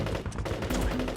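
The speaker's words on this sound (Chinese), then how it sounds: "听枪声，鬼子已经冲进村子了。" A short burst of rapid gunfire crackles from a war-film battle in a village, with several sharp shots packed into about a second against a noisy background.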